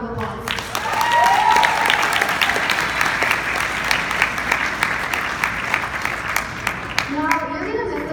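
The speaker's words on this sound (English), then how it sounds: "Give yourselves a round of applause." A crowd at a 2019 graduation ceremony gives a long round of applause, loud and dense, holding steady with scattered sharper claps and a speaker's voice at the edges.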